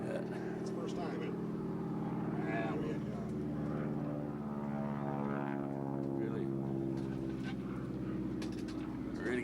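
A propeller airplane flies overhead near a river on a fishing trip, its engine a steady, powerful droning hum that swells and shifts in pitch as it passes, continuous and fairly close for the whole stretch.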